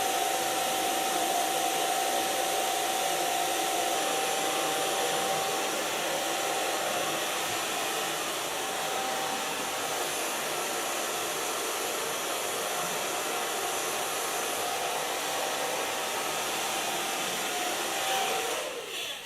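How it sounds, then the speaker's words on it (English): A hair dryer fitted with an ultra large diffuser runs continuously while drying natural curls, giving a steady, loud, unbroken airflow roar with a faint whine that cuts off at the very end. "So far blow drying."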